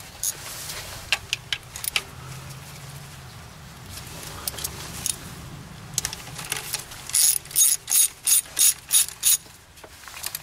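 A ratchet fitted with a 19 mm deep socket turns a bolt on a 1991 Miata MX5 during temperature sensor replacement, with scattered clicks and then a closer run of quick, even ratcheting pulls near the end.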